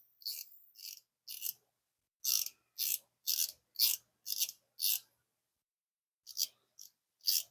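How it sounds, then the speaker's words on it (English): Drag adjustment on a Penn IV 4000 LE fishing reel giving sharp, crisp clicks in short bursts, close and isolated, with gaps between turns. "it's got that nice solid click design whenever you're tightening or loosening the drag"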